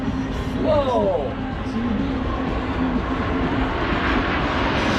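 Snowbirds aerobatic jets at the Huntington Beach Airshow, a steady broad jet roar sustained across the whole stretch with a brief sweeping tone early on, heard from a distance while people talk nearby.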